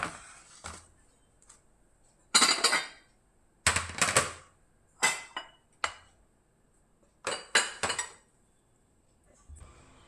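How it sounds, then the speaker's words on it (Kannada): Dishes and cutlery clink in separate bursts as freshly cooked bhindi (okra) curry is moved into a serving bowl, with quiet gaps between the sharp, close knocks and scrapes. "ಈಗ ಎಲ್ಲ ರೆಡಿ ಆಯಿತು ಈ ಸರ್ವಿಂಗ್ ಬೌಲ್ಗೆ ಶಿಫ್ಟ್ ಮಾಡಿಬಿಡೋಣ"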